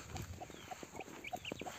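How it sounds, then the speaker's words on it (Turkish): A hen clucks in short, repeated bursts in a backyard coop near a vegetable garden, a few sharp notes close by with faint background noise and no talking. "Bu tavuk da burada kuk kuk kuk kuk bağırıyor"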